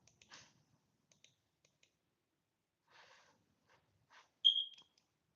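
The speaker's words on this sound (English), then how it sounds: "My bad again, y'all, for the smoke detectors" A smoke detector gives a single short, high chirp near the end, loud against faint scattered clicks and keyboard tapping in a quiet room.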